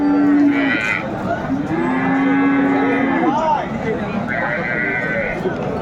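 Sahiwal cattle moo loudly at a busy livestock market, several long low calls close by over constant crowd chatter and background bustle.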